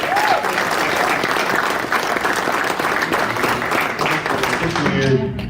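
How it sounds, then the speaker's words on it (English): An audience at the end of a campus conversation session breaks into sustained applause, a dense, steady wash of clapping from many hands with faint voices mixed in. "Please, one more round of applause."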